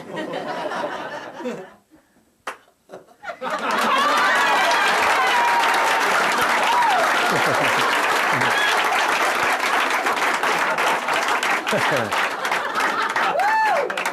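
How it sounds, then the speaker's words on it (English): Loud, sustained audience applause with scattered laughter follows a rope magic trick, swelling after a brief quiet gap and holding steady for about ten seconds, with a few voices and whoops rising through the clapping. "after the near-deafening applause"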